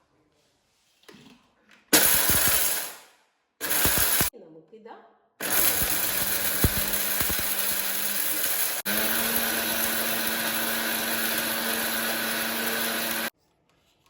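A mixer grinder pulses in short bursts, then runs in long continuous grinding whirs while grinding jackfruit seeds into powder, loud and close, with a brief spoken word between bursts.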